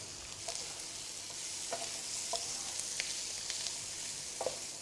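Vegetables, including thinly chopped celery for minestrone soup, sizzle steadily in a hot frying pan while a utensil stirs and scrapes through them in occasional soft clicks.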